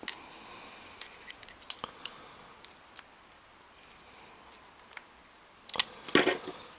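Small cutters give a light nip during assembly of a ManFish stainless steel main gear into a Daiwa 7HT Mag PMR reel: scattered faint metallic clicks and snips in a quiet room, building to a brief louder cluster of clicks at the end.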